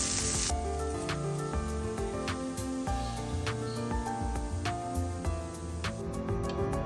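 Pieces of tuna fish fry in hot oil in a pan, a continuous close crackling sizzle with scattered pops and small spatters, with no voices over it.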